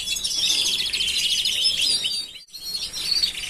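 London Fancy canaries sing a bright, continuous run of trills and chirps, close and fairly loud, with a brief break midway before the song resumes.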